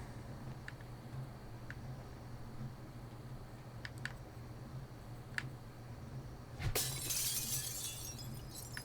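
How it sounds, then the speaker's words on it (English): Broken glass crunching underfoot in a video game, a few sparse faint clicks and taps followed by a sudden louder scraping crunch of shards near the end, quiet and close, no talk. "Broken glass all over the place."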